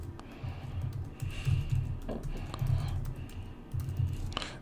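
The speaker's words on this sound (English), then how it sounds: "Type in our username again" A computer keyboard clicks under steady typing as a username is entered, the keystrokes coming in quick irregular bursts with short pauses between them, close and fairly clear.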